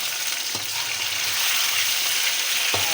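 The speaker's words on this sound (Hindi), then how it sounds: "चिकन को हमने अच्छी तरह फ्राई कर लें।" Chicken fries in a pan with a loud, steady hiss of hot oil, and a couple of brief knocks cut through the sizzle.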